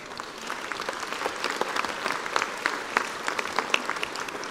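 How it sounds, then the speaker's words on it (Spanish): An audience bursts into applause for a volunteer at a stage talk, a dense patter of many hands clapping at a steady level throughout, with a few louder claps standing out. "Un aplauso para el señor, por favor."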